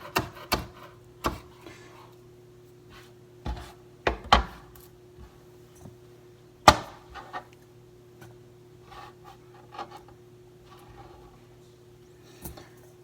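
Vegetables being cut for beef stew, a sparse, irregular series of sharp knife taps on a board with quiet gaps and faint rustling in between, under a low steady hum.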